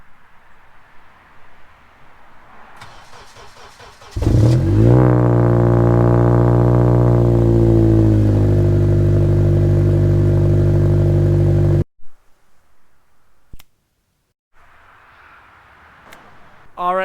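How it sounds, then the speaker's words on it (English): A 7th generation Honda Accord coupe with no muffler cold starts with a brief crank, then settles into a loud, raw, droning idle for several seconds before cutting off, with quiet background noise around it. "let's get a cold start on the no muffler Accord"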